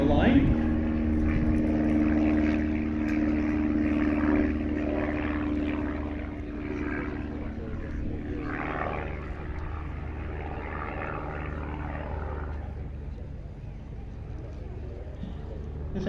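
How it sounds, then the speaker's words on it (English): A Pitts Special S1 single-seat aerobatic biplane flies at an airshow, its propeller engine droning steadily at a moderate distance, with a commentator talking over the sound. "This S1 model is one of the single-seat versions of the Pit Special."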